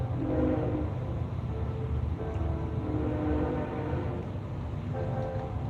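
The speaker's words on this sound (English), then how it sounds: "Do you guys hear the train?" A train rumbles past with a steady low roar and intermittent horn tones sounding over the rolling noise, moderately distant and continuous.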